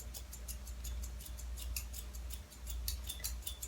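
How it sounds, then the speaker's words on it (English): Scissors snipping hair into a deep V shape, a quick run of small, close, crisp cuts with a soft steady rhythm and no talking. "I'm going to cut the deep V so you can see first, and then I will cut the oval"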